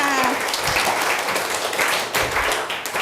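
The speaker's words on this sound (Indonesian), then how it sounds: "Oke, tepuk tangan untuk kita semua." Students in a classroom break into applause, a dense burst of clapping lasting a few seconds, close and fairly loud.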